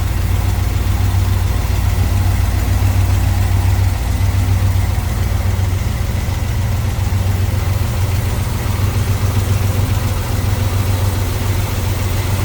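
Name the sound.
small-block Chevrolet engine idling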